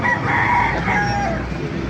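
A rooster crows at a poultry gathering in Baliwag, Bulacan, one loud, close, drawn-out call filling the moment.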